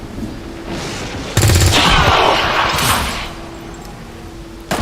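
Gunfire in XCOM 2 opens with a sharp loud burst, followed by a dense crackling volley that rumbles and fades over several seconds, ending with another abrupt hit; no talk.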